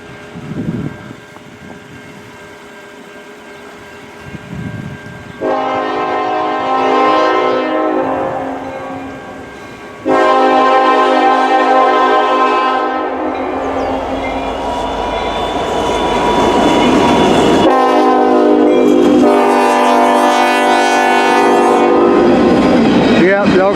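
A CN local freight train passes a level crossing in Emmett, Michigan, sounding long, loud horn blasts over rumbling wheels and rail clatter. A brief voice comes early, before the horn.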